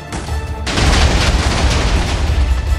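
A huge TNT explosion in a realistic Minecraft-style animation erupts as a sudden loud blast after a brief lead-in, then rolls on as a dense, sustained rumble of booms and crackling bursts.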